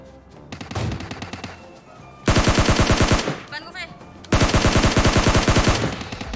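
Automatic gunfire in the PUBG Mobile video game: lighter rapid shots at first, then two loud, sustained bursts of fast shots separated by a brief pause.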